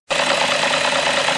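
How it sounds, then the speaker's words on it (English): BMW E38 engine idling during an engine flush with cleaning detergent, with a knock still present: a steady, loud, close mechanical hum with a rough, rapid ticking texture throughout. "Car has been idling now with the cleaning detergent for about 10 minutes now. The knock is still there."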